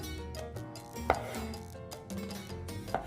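A knife slices fresh tomatoes in half on a cutting board, a series of soft, irregular cutting taps close by with one sharper knock, with no voices.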